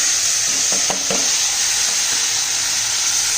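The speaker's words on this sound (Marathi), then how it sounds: "बटाटे चांगले परतून घेऊया आपण आणि मग मटकी घालून घेऊ" Potatoes and moth beans stir-fried in a pan give a loud, steady close sizzle, with a few brief scrapes of the spatula early on and no talking.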